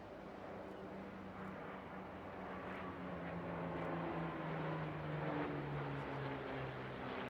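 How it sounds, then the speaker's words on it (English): A Republic P-47D Thunderbolt warbird built in 1945 flies at the Bournemouth Air Festival, giving a steady, broad engine drone that holds throughout with no voices. "right up the front there, the Republic P-47D Thunderbolt, known as Nellie, built in 1945 at Republic's Evansville factory in Indiana, USA"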